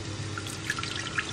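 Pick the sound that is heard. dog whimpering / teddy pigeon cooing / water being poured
water being poured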